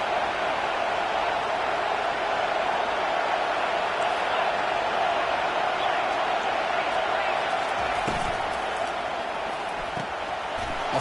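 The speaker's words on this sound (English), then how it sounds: "It's early, but this crowd is fired up. Listen to this noise here." Stadium crowd noise in the College Football 25 video game, early in a game with the home crowd fired up: a dense, steady roar of cheering that holds loud throughout, with no commentary over it.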